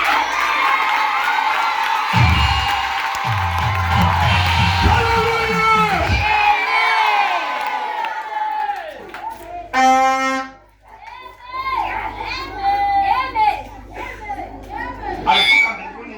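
Within a church service a crowd cheers and shouts loudly, excited high voices whooping together over many seconds, with bursts of clapping and a preacher's voice cutting in near the end.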